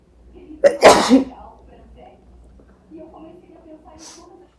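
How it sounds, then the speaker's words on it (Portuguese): A woman sneezes once, a sharp loud burst near the mic, followed by quiet talk in Portuguese. "Eu vou espirrar de novo."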